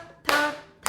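Hand clapping in a rhythm lesson: two sharp claps close to the mic in under a second, the first ringing briefly before the second lands at the very end.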